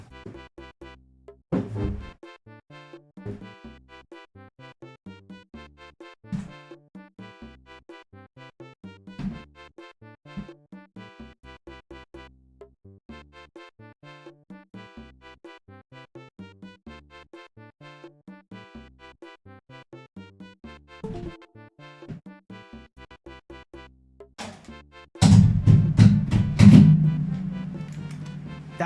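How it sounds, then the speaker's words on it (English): A game controller's cord is unwound and then struck repeatedly against a desk, a run of sharp knocks and thuds over a steady background, ending with a burst of loud, dense clattering. "That was the sound of me unraveling the wire of the controller and then constantly hitting the desk."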